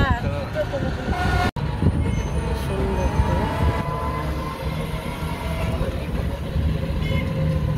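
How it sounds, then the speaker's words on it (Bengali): A train runs alongside a road in rural Bangladesh, its steady rumble mixed with road traffic, passing vehicles and horn toots, loud and close throughout, with one brief dropout near the start. "এই যে ট্রেন রাস্তার পাশাপাশি"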